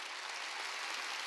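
A congregation at a Korean church Wednesday service applauds, a brief dense burst of clapping filling the room at an even level.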